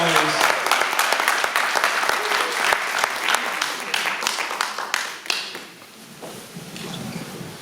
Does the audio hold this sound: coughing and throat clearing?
no